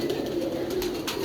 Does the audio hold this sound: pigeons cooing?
yes